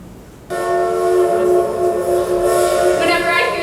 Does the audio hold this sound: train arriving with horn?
yes